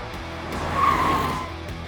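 A Mercedes-AMG S 63 E Performance with carbon ceramic brakes stops hard, a short tire squeal swelling mid-way over steady road and wind noise, then fading as the car settles.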